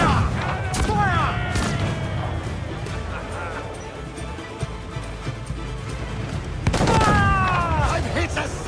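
Ship cannons fire in Assassin's Creed Black Flag as a rolling volley of booms with whistling projectiles. The blasts come in two bursts over a steady layer of shouting crew voices and game noise.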